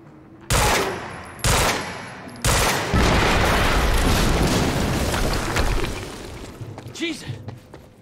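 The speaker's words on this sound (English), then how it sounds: "we just heard an explosion near the harvesting perimeter" In the Quantum Break video game, three loud blasts come about a second apart, followed by a sustained burst of explosive noise and gunfire that fades into scattered thuds, with voices heard.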